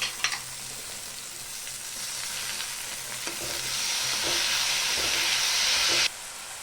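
Cut tomatoes added to sautéing onions in a pan for dried anchovy thokku, a continuous close frying sizzle that swells louder and hissier midway before dropping off abruptly near the end, with occasional stirring knocks.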